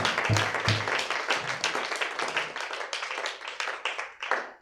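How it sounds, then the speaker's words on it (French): A church congregation claps loudly, dense and sustained applause filling the room, with a few low thumps early on and the clapping tapering near the end. "Acclamez très fort."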